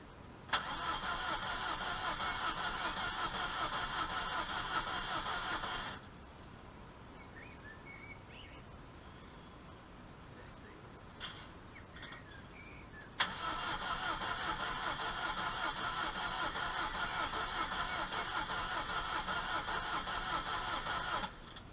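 A starter motor cranks a car engine during a compression test, turning it over slowly. Two long stretches of steady, even cranking are separated by a quieter pause of several seconds.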